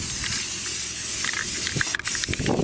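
Aerosol cans spray white top coat onto truck wheels outdoors in wind, a loud continuous hiss near the microphone with faint rattles and a short break near the end.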